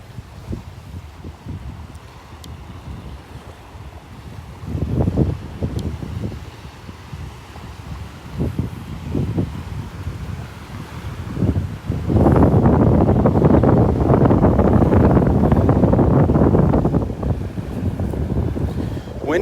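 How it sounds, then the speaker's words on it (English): Wind gusts roar across the microphone on a beach at Delnor-Wiggins, swelling into a strong sustained blast midway before easing, with faint surf rumble beneath. "Windy."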